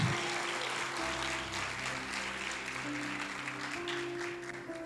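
Congregation clapping in a church, a continuous dense patter of many hands, with sustained organ or keyboard tones and faint voices running underneath.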